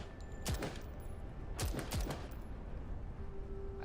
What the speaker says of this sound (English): With a burst of gunfire, the lock is penetrated by the bullets.